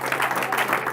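A brief burst of church congregation applause, dense clapping from many hands, fairly loud and steady throughout.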